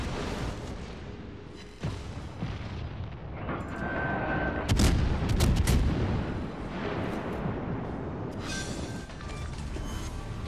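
A New Orleans tier 6 American heavy cruiser firing its main guns in World of Warships: booming salvos over a constant rumbling battle din, with a heavier blast midway and further reports, loud and close, with no speech.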